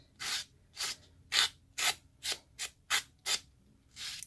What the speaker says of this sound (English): And all I'm doing is filing those fuzzies away.